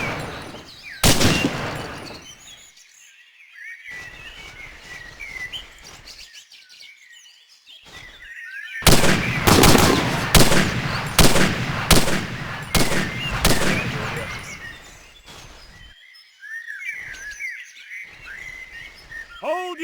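Bursts of automatic gunfire in the tactical shooter Hidden & Dangerous Deluxe, with the Ultimate Overhaul Mod 3.0, crack loudly in rapid clusters, separated by quieter gaps with chirping birds and ambient game sounds.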